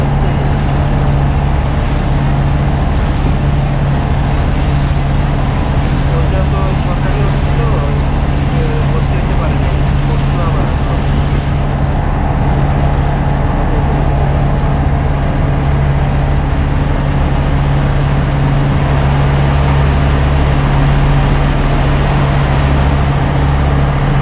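Hatirjheel water taxi in Dhaka travelling across the lake after leaving the Police Plaza stop, a steady low engine drone and broad water rush running continuously and loud throughout.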